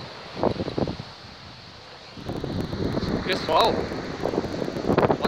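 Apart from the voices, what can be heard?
strong wind blowing at the sea while fishing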